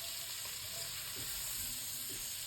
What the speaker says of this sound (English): cooking the onions in that bacon fat and getting all that rich flavour into the onions